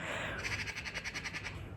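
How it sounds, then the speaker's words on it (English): A magpie calling loudly outside a window: a rapid series of harsh, chattering squawks repeating in quick rhythm, fairly close and clear above a steady background hum. "It's a magpie, I can see it."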